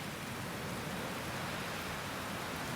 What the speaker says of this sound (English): I love the sound of the wind in the trees.